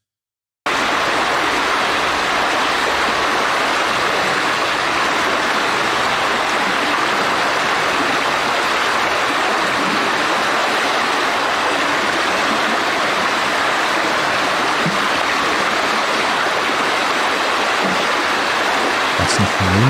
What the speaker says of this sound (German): Wenn man dann direkt einen Bach hat, das ist natürlich Jackpot.